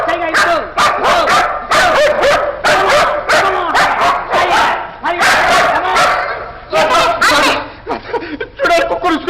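Dogs bark in a scene from an old Telugu film, repeated loud, close barks and yips in quick bursts, with a few whimpers among them.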